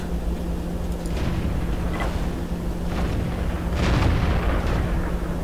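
Artillery in a World of Tanks-style video game fires at a T-34-85 tank: several deep booming shots and impacts at irregular intervals, the loudest near the end, over a steady engine drone.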